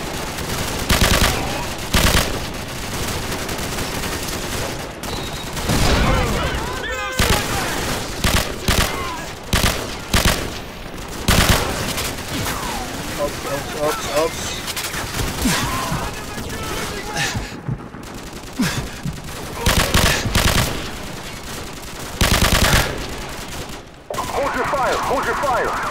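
Sustained automatic gunfire in Call of Duty 4: Modern Warfare, loud dense bursts of rifle and machine gun shots with short pauses, layered with shouted soldier voices and battle noise.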